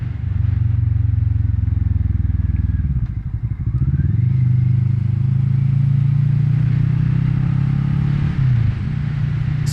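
Kawasaki Vulcan S motorcycle riding over a bumpy, rough road, its steady low engine drone and wind rumble loud and close, with a brief dip and clatter as it jolts over bumps.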